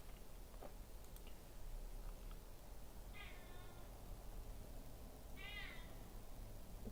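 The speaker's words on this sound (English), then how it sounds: "that cat is meowing me" Domestic cat meowing twice, well apart, each a short wavering call heard at moderate distance over a low background hum in a quiet room.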